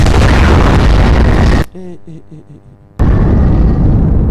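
Bombs explode in a dubbed Avengers action scene: a loud, sustained roar of blasts and rumble, briefly dropping to quieter tonal sounds before the booming barrage surges back.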